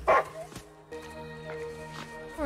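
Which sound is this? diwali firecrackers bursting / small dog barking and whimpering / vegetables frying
small dog barking and whimpering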